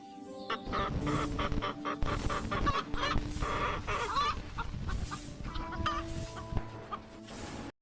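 Chickens cluck busily and continuously nearby, several birds at once with short overlapping calls and some scratching noise.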